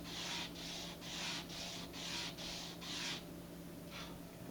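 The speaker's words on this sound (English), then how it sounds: "I'm going to grab a big piece of sandpaper and just very carefully, because it's a small section, just go back and forth a couple times." Sandpaper works a burr off a small model rocket in a series of about eight quick back-and-forth strokes, soft and close, with a short gap before one final light pass.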